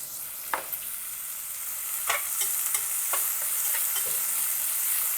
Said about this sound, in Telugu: సన్నగా తరిగిన ఉల్లిపాయ ముక్కలు వేసి ఎర్రగా వేయించుకోవాలి